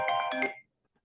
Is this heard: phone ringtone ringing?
yes